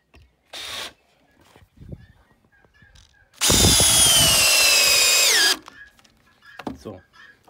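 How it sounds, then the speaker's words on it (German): A power drill drives a screw into wooden veranda boards in one loud, steady whir lasting about two seconds, its pitch dropping as the screw seats, with brief speech and handling noises before and after. "dann kommt jetzt hier noch eine Schraube rein"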